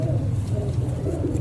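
A pure-breed pigeon coos softly in a low, murmuring tone, a brief steady call heard close but faint.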